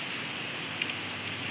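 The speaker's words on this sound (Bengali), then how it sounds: "কিন্তু বৃষ্টি হচ্ছে" Steady early-morning rain falls outdoors as an even, hissing patter with no speech, a constant wash of drops on surfaces.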